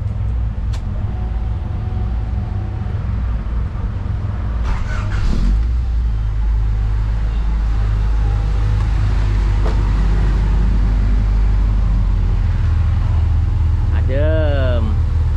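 A Honda Civic Ferio fitted with a 4-1 exhaust header cranks and settles into a loud, rumbling idle close by, with a brief voice near the end.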